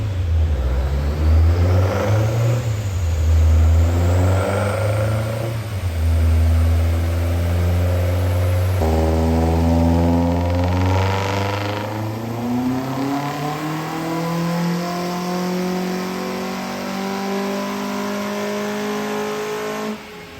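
A rebuilt kit car engine, making about 159 BHP at the flywheel, revs hard on a dyno at Sanspeed in Bexley Heath. Loud, close engine tones rise and fall through repeated sweeps with a steady whir underneath.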